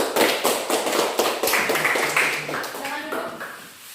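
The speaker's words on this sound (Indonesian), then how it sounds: "Tepuk tangan untuk semua." A class of students clapping hands together in rhythmic bursts, close and fairly loud, sharp claps repeating before tapering off as voices murmur underneath.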